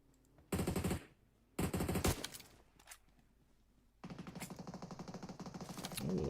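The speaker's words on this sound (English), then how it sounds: "Getting a couple bullets out with the heavy guns." Heavy gunfire in the mobile game PUBG Mobile, loud rapid automatic bursts in several volleys separated by short pauses, ending in a long continuous stream of shots.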